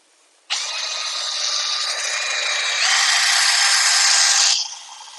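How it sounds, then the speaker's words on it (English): A drill spins a stainless steel wire brush used to clean stainless steel pipe before TIG welding. It gives one steady, close whirring grind of about four seconds whose pitch shifts partway through, then stops sharply. "put it on a drill"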